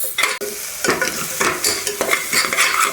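Ginger garlic paste sautéing in a pan over low flame gives a steady sizzle, broken by rhythmic scraping and stirring strokes of a spoon against the pan, close and clear with no talking.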